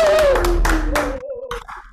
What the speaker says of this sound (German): zum Schluss geben wir uns noch einen Applaus